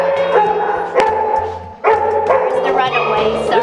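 A 3-year-old Maltese Poodle mix barks and yips in short, repeated bursts at close range. People talk throughout, and there is a brief pause near the middle.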